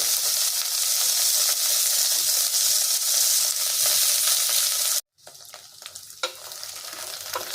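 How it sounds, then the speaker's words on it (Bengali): Okra sizzles loudly and continuously in a hot pan, then cuts off abruptly and returns as a quieter, crackly fry with a few pops, no talking. "আর ঢ্যাঁড়সটাকে না একটু ভালো করে ভাজতে হয়"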